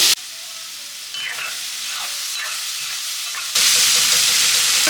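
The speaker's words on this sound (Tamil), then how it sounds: "இதில் நம்ம மேரினேட் பண்ணி வச்சுருக்கிற ப்ரான் ஆட் பண்ணிடலாம்" Marinated prawns fry in coconut oil in a pan, a steady close sizzle with stirring scrapes that swells louder and brighter near the end.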